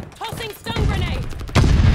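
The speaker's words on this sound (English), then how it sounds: "Tossing stun grenade" A stun grenade going off in the multiplayer shooter Call of Duty: Vanguard: a loud, sharp burst that hits at the end and rings on, over a busy in-game mix that includes brief radio-style voice chatter.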